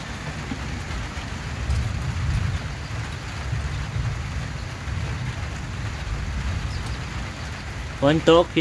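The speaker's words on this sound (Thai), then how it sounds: "ฝนตกแล้วบ้านหนู" Steady rain hisses down evenly and close by during a storm of wind and rain, a dense wash of drops on surfaces throughout. A brief voice cuts in near the end.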